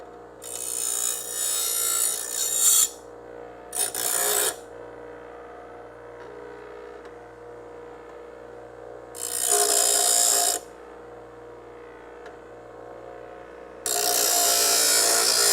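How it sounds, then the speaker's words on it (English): Metal plate being deburred on a car frame project in four rough abrasive bursts, each a harsh scraping rasp lasting one to two seconds, separated by quiet gaps with a low steady hum beneath. "I'm gonna deburr the plate again"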